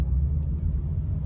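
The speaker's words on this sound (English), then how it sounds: "car's running good" A car engine idles steadily nearby, a continuous low rumble without variation over a short stretch and no talk.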